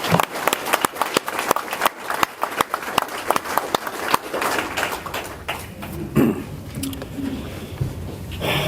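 Applause for the Scouts at an outdoor Memorial Day veterans ceremony, a scattered round of crisp handclaps that thins out and fades, leaving open-air ambience.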